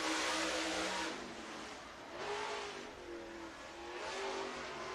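A race car engine at North Georgia Speedway during time trials for Topless Outlaws, loud and rising in repeated revving surges, with faint tire noise and no talk.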